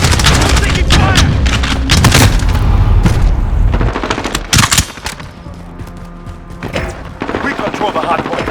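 Gunfire crackles in a Call of Duty: Modern Warfare hardpoint match, with loud bursts of automatic fire and heavy booms that thin into scattered shots and radio chatter near the end.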